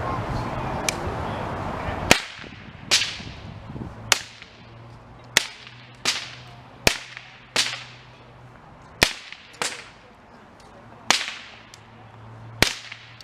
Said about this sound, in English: Now, firing it to the ground from the right. Commence firing.